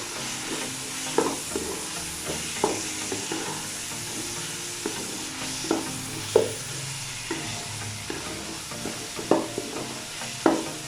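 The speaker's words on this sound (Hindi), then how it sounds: "और अभी इन सारी चीज़ों को हम अच्छे से फ्राई कर लेते हैं" Keema with chili powder and black pepper frying in a pan, a soft sizzle under irregular stirring scrapes and knocks, close and moderately quiet with no voices.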